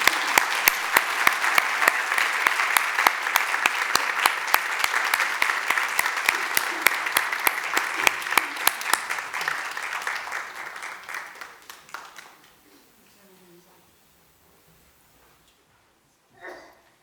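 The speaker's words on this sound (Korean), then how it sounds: "우리 박수로 환영하겠습니다." A church congregation claps together at a Sunday worship service to welcome two pastors' families, dense and loud for about twelve seconds before fading into near silence, with a brief soft sound at the very end.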